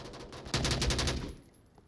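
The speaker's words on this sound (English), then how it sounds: "Lipinski can't quite get past all of the gunshots coming down in their location" A rapid burst of gunfire in the VR shooter Onward, a fusillade of shots for under a second that cuts in abruptly and then fades into quiet.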